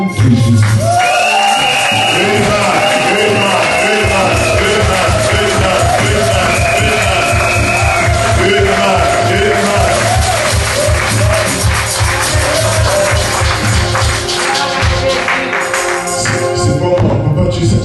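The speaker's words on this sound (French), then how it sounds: "Est-ce qu'on peut applaudir pour le nom de Jésus?" A church congregation applauding together, a dense wash of clapping and crowd noise mixed with ongoing music and voices, loud and sustained throughout.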